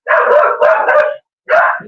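A dog named Marky, nicknamed Barky, barks at a passerby in springtime Texas: a loud, close burst of rapid barks, a short pause, then one more bark.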